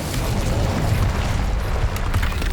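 A fiery Incendio spell blasts through a magical barrier in Hogwarts Legacy, a dense, sustained roaring rumble with heavy low-end booming that holds steady for a few seconds without any talk.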